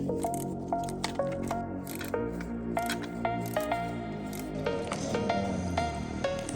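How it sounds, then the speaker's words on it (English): Coolant spills out of the thermostat housing on a 1995 Acura Integra GSR with a worn gasket, heard as close, wet squishing and repeated dripping splashes at an irregular rhythm. "there goes the fluid everywhere"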